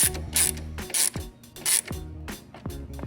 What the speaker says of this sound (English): Tightening this down and securing the relay box.